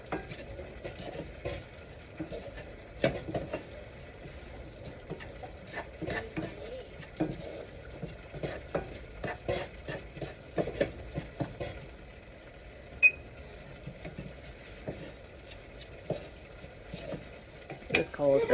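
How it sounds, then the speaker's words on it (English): A spoon scrapes and knocks around a pot while a dark roux is stirred, with soft irregular clinks and a faint sizzle, quiet and close. "So I like to stand here and make a really nice dark roux."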